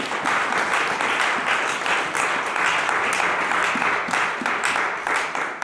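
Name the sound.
congregation applauding during a sermon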